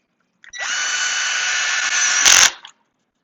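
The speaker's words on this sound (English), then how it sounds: "drill back in, cut my countersink, clear it, change my bit, grab my screw, and" Power drill running steadily for about two seconds as it drives a screw into a small wooden box, ending in a brief louder burst as the screw seats, close and loud with no talking.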